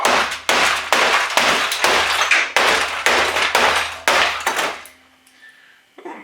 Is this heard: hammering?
yes